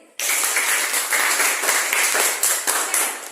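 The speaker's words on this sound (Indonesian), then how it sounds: "Oke, tepuk tangan untuk Nak Karin" Classroom children applaud a classmate, a burst of close, dense clapping that starts abruptly and carries on steadily with small surges.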